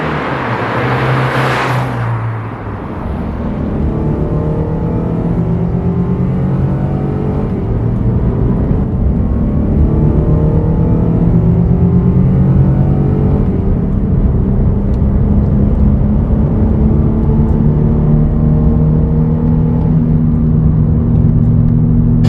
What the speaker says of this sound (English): this thing it'll pull all the way to redline. It's a kind of a punchy little engine.